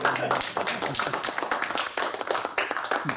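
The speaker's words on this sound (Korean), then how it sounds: "박수 치셔야 되는 거예요." A congregation clapping at a church dedication ceremony, a moderate round of hand claps from a group with audible individual strikes, voices faintly mixed in.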